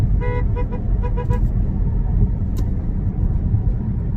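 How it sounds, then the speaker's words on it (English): A vehicle horn gives a few quick toots near the start over a loud, steady road rumble from inside a moving vehicle at dawn. "he sees that I honked at him as I went past"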